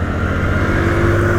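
A motorcycle engine drones steadily close by as the bike accelerates in traffic on a beginner's ride, with a constant low hum and no talking.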